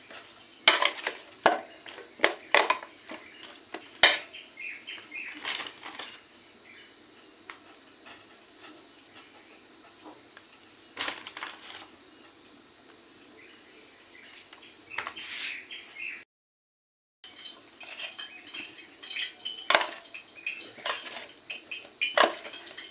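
Cauliflower florets tossed with cornflour in a bowl for chilli gobi, with scattered clinks, scrapes and soft crunchy rustles at close range, irregular bursts separated by pauses, and faint bird chirps in the background.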